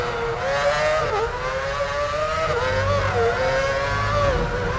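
A Formula 1 car lapping a circuit in the F1 Championship Edition video game, its high engine whine climbing and dipping through gear changes, loud and steady throughout with no voices.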